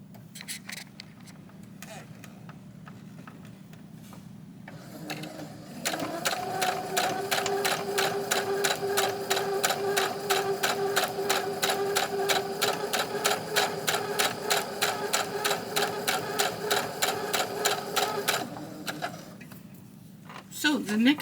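Sewing machine basting across fabric for an address book cover, a fast even needle rattle running about thirteen seconds, framed by quieter handling sounds and a brief voice before and after.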